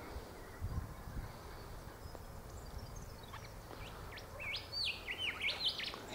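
Eastern Rosellas calling outdoors, a few short whistled chirps early on, then a run of clear rising and falling piping notes near the end over a faint rustling background.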